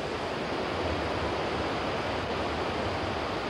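Horseshoe Falls waterfall crashing down in a steady, dense, unbroken roar, loud and close, with no voices.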